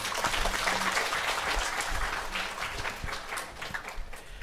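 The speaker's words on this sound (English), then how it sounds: "give them another round of applause" At a camp graduation ceremony, an audience claps for performers leaving the stage, a sustained, moderately loud wash of hand claps with individual sharp claps standing out, easing a little toward the end.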